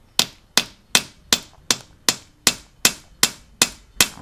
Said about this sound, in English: what we're doing now is peening with a ball peen hammer. We're peening over the end.